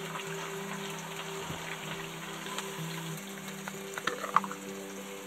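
Mushrooms fry in a pan with a steady, moderate sizzle and crackle. A few sharper pops and spits come near the end, and no one speaks.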